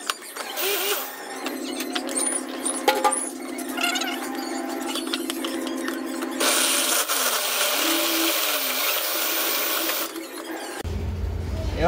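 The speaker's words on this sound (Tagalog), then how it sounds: "Ito, gamitin natin yung blender na maliit." A small blender motor runs loud and close with a steady whirring hum, pitch shifting as it labors, before cutting off near the end.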